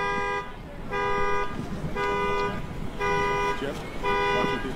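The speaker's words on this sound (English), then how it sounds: "You can hear horns in the background. An alarm has been set off." At a chaotic street scene, a car alarm sounds as a steady, rhythmic horn toot, five evenly spaced blasts over a busy background with voices and traffic.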